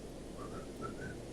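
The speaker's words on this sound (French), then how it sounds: "Qu'est-ce qui siffle?" A faint whistle of four short rising tones sounds under a steady, broad background hum during a multiplayer Farming Simulator 2013 session on an American map.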